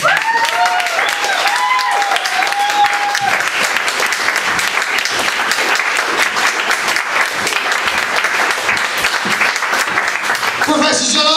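Sustained, loud audience applause at a comedy science night, a dense continuous wall of clapping running throughout, with a voice speaking over the start.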